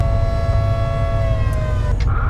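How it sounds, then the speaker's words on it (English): A steady wailing air raid siren in the video game Volcanoids drones loudly over low rumble, its tone holding and slowly sliding downward, with no voices. "you guys are going to hear that the air raid siren"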